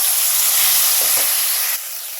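Potatoes hit hot oil while frying bottle gourd peel bhaji, raising a loud, steady hiss of sizzling that eases slightly near the end.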